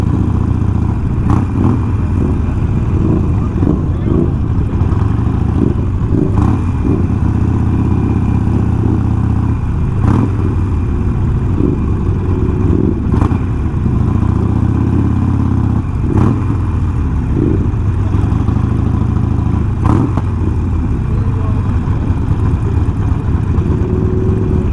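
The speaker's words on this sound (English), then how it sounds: "it's not every day you get about 140 bikes pulling up into the apron of City Hall" A large pack of about 140 motorcycles on a Harley Sportster group ride rumbles in at City Hall, a dense, continuous low engine drone with revs and passing bikes, loud and steady throughout.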